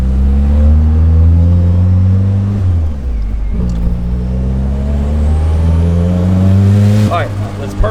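A turbocharged car pulls hard under boost, its engine drone rising steadily in pitch, briefly dropping at a shift, then climbing again before a sharp burst as the wastegate opens near the end, with voices talking over the run.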